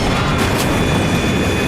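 A loud, dense roar of a plane crashing into a steep ridge, crashing impact and grinding rumble, continuous and overwhelming, with a couple of brief harsher bursts near the start.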